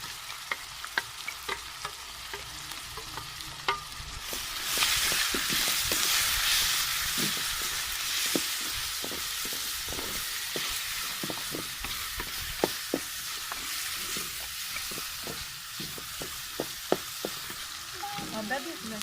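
Steady sizzling of ground green chilli, garlic, ginger and tomato paste frying in a pan, growing louder midway, with scattered clicks and scrapes of stirring throughout; no speech.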